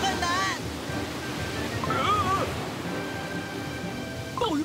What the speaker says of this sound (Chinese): 我们听，是海洋嘶吼的声音。